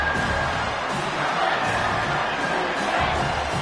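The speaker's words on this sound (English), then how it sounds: "Here comes this home crowd as the defense tries to get off the field on 3rd down." A home crowd at a football game roars and cheers steadily on a third-down defensive stand, a dense sustained wall of voices filling the whole stretch at fairly even loudness.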